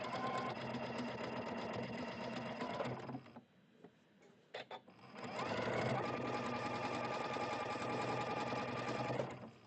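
A sewing machine stitching quilt seams runs in a long, steady mechanical whir, stops briefly, then resumes for another long continuous run.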